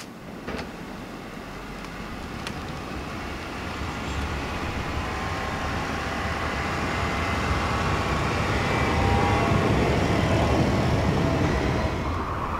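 A car drives slowly along a snow- and ice-covered road in 15-degree cold, its steady low rumble of engine and tire noise building gradually over time, with crunching road texture and no talking.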